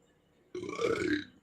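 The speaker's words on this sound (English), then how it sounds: "so much burps today" A single short, throaty burp from one person, fairly close and clear, rising out of near silence and lasting under a second.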